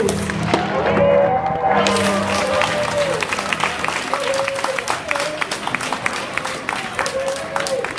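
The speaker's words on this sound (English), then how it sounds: "Round of applause for all those superheroes." A graduation ceremony audience claps and cheers for a senior introduced in costume, a broad sustained round of applause with scattered whoops and shouting voices over the crowd.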